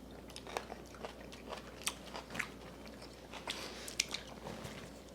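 Someone bites into and chews freshly made radish kimchi close up, giving a string of soft, wet crunches and squishy bites at an irregular pace with no talking.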